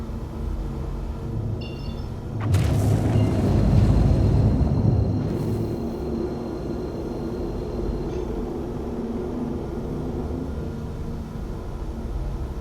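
The quantum drive of a C2 ship in the Star Citizen video game spools up with a low, swelling rumble and whoosh, joined by thin sustained electronic tones that hold steadily, then settle into a constant engine drone.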